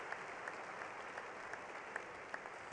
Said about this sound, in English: They deserve that applause and so, so much more.